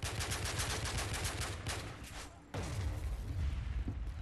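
Rapid automatic gunfire in Call of Duty: Modern Warfare 3 rattles in dense bursts, breaks off for a moment, then resumes with heavy booming shots close and loud.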